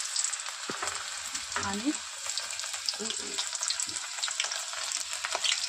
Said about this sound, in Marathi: तेल गरम केलं गंजामध्ये आणि त्याच्यामध्ये आता आपण घालूया एक छोटासा कांदा घातला